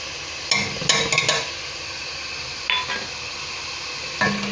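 Ginger and garlic frying in oil with onions and tomatoes for a Sindhi potato pulao give a steady hiss, broken by a few sharp clinks and scrapes of a spoon against the pan.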